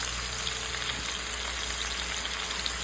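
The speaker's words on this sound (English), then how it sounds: "I'm gonna let it saute with these onions until my potatoes get a little soft." Potatoes and onions sauté in bacon grease in a pan, making a constant, even frying sizzle that stays close and steady throughout, with no voices.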